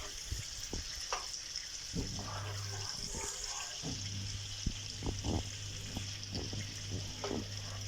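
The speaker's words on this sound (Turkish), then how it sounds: "Tavuklarımızı tenceremize kızan yağımızın içine alıyoruz. Ve sotelemeye başlıyoruz." Chicken sizzles steadily in hot butter in a pan, with occasional clinks and scrapes of stirring over the constant frying hiss.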